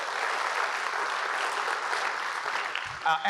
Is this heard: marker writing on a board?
no